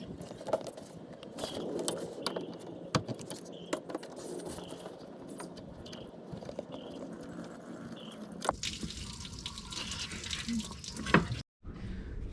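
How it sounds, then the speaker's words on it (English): Antifreeze drains from the radiator drain plug of a 1991 Toyota Tercel in a steady, splashing trickle, close by, with scattered clicks and clinks over it and a brief cut near the end. "So just open it up and drain out the antifreeze."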